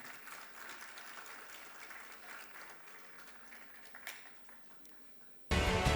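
Applause from an event audience celebrating a guest, a dense wash of clapping that runs steadily for several seconds before giving way to a sudden loud burst of noise at the end.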